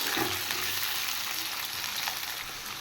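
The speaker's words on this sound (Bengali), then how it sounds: "কেটে রাখা আলু আর বেগুন এবার একসাথে হলুদ নুন দিয়ে আমি বেগুন আলু ফ্রাই করে নেব" Cut potato and eggplant fry with onion, turmeric and salt in a pan, a continuous close sizzling hiss with a faint stir or two near the start and no voices.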